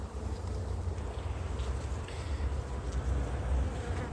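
A honeybee colony hums steadily while being hived by a beginner beekeeper outdoors, a dense, continuous close-up buzz with some low wind rumble across the microphone.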